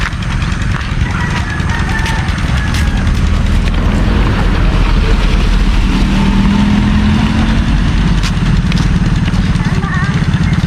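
A vehicle engine rumbles loudly and continuously on a rural road where corn is laid out to dry, a steady low drone with a brief swell suggesting a car passing close by.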